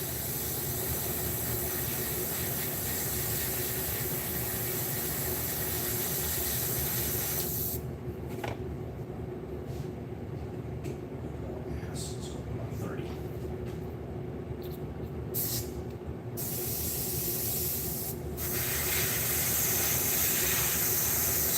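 An airbrush spraying paint in a home garage, giving a steady hiss that cuts out and restarts in short bursts midway, with a person talking over it.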